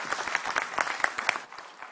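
Brief burst of audience applause at a business conference as a professor walks up to the stage, dense clapping from a crowd close and fairly loud, fading slightly toward the end.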